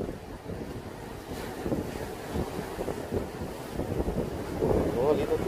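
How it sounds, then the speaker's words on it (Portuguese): Wind blowing steadily across a microphone beside the water during a day of fishing in Japan, a continuous low rumbling gust that swells louder toward the end, with faint water movement beneath. "Tá ventando, hein, galerinha?"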